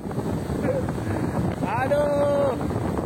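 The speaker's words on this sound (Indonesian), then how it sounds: "Anginnya gila kenceng banget." Strong wind buffets a Poco X3 GT phone microphone outdoors, producing a continuous, loud rumbling roar with a voice faintly in the gusts.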